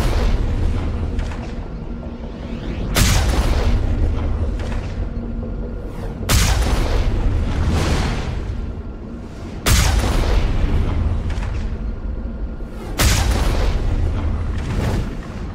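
Missile launcher firing at a Geth ship in the Mass Effect video game: four heavy booming launches spaced about three seconds apart, each with a loud blast and a rumbling tail over continuous low battle noise.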